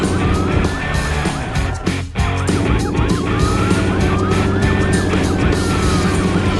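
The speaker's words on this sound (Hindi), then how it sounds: "सायरन की गूंज और पहियों की रफ्तार के साथ पुलिस की बस और एम्बुलेंस" Wailing emergency sirens, police and ambulance tones overlapping and rising and falling continuously over a busy rumble of traffic, loud and close.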